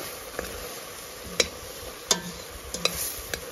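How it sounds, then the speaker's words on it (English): Spice and curry powder mix being stirred into a vinegar-based marinade for BBQ skewers, with a few sharp scraping clinks of the utensil against the bowl over a quiet background. "Time to add in all these powders. Mix it in."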